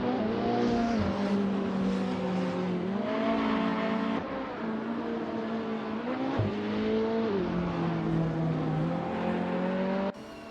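Supercars race around Seattle Circuit in a racing video game, engines droning loudly and continuously with rising and falling pitch as they accelerate and shift, several cars blending together close by.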